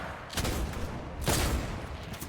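Shotgun blasts in the Fortnite video game, two broad bursts about a second apart over a steady bed of game noise, with a slow gap between rounds.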